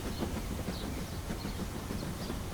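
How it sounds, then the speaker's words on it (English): A cartoon train rumbles steadily up a ramp with a dense, continuous rolling clatter. The sound is close and fairly loud, and no voices are heard. "Train is going up a ramp."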